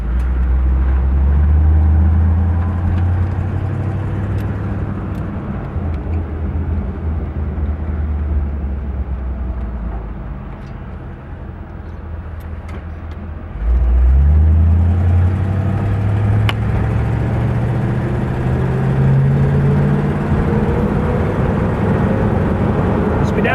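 1956 Chevrolet Bel Air driving on a road, heard from inside as a loud low engine drone that eases off, then rises again as the car accelerates through the gears, with talk inside the cabin.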